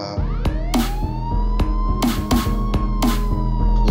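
A police siren in the video game Come on, Springbonnie wails steadily and loudly throughout, layered with sharp repeated thumps and electronic tones, like a game soundtrack.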